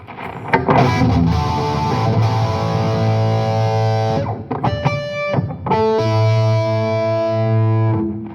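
Electric guitar with high-gain distortion from a Jrockett PXO pedal plays sustained, buzzing chords with a few quick muted chugs in between, loud and close.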